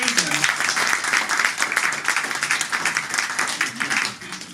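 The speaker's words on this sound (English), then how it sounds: "a round of applause for John Kaiser." An audience at an interfaith institute's annual award ceremony claps in a dense, sustained burst of applause that stays loud for several seconds before starting to thin out.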